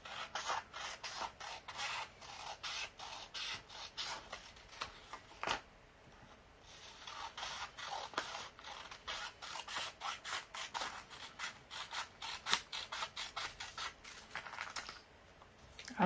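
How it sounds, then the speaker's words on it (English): Rapid, steady snipping of scissors cutting through paper, close and crisp, a long run of small cuts with a brief pause midway. "I want you to take your scissors and cut on those dashed"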